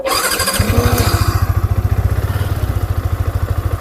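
A Yamaha R15 V4 single-cylinder motorcycle engine cranks and catches, then settles into a steady, throbbing idle with a regular chugging pulse, close by and fairly loud.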